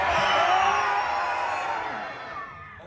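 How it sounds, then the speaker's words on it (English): Audience at a Disney Monsters show in Magic Kingdom letting out a loud sustained group scream that swells and then tapers off. "You throw your hands up in the air and scream as loud as you can"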